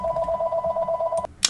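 A telephone rings with a steady electronic warbling tone that runs for over a second and then cuts off, followed by faint clicks and a short burst of noise.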